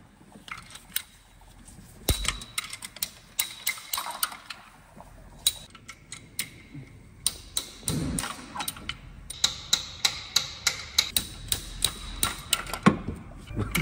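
Slide hammer pulling diesel injectors from an engine, giving a series of sharp metallic knocks in an irregular rhythm that grows more frequent toward the end, with background voices.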